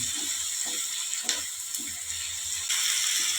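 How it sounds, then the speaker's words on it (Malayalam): Onion and tomato sauté in a pan for Palakkad-style chammanthi under a steady bright hiss, while a spoon stirs and scrapes at a slow, regular rhythm. "തക്കാളി ചേർത്തിട്ട് നല്ലപോലെ ഇളക്കി കൊടുക്കുക."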